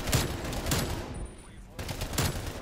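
Artillery strike explosions in a first-person shooter match on the Drive-In map: several loud, broadband booming blasts in quick succession, with a brief lull in the middle before more heavy impacts, amid continuous battle noise.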